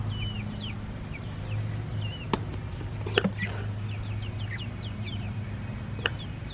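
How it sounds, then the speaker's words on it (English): Chickens cluck and chirp in short, scattered calls against a steady outdoor hum, with a few sharp knocks in between. "Their dirty pool, and the ducks and the chickens and Valkyrie."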